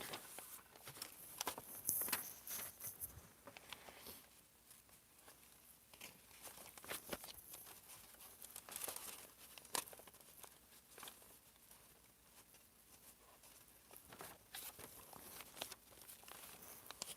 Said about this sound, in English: Okay, I'm taking the pattern paper out.